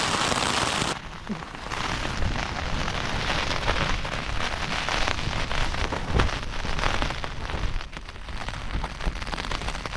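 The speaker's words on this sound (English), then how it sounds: "Been a wet night. Showers on and off, mostly rain." Steady heavy rain pattering on a Lanshan 1 tent on Old Winchester Hill, a dense, continuous hiss with occasional louder drops, close and enveloping.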